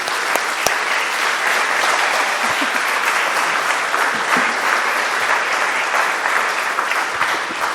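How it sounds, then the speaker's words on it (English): Sustained audience applause at a film art talk on matte painting and art direction, dense and steady throughout, loud and close with no voices rising above it. "Let's have a big round of applause"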